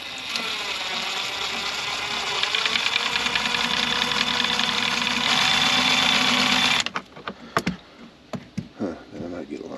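A power driver sends screws into a deck with a loud, continuous whirring ratchet for several seconds, then stops abruptly, leaving scattered sharp clicks and knocks nearby.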